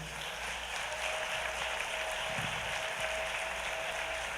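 A church congregation claps steadily and continuously during a Sunday service, a dense wash of applause with a faint sustained tone ringing underneath.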